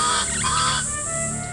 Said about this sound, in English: The trees are lovely, you hear the birds singing.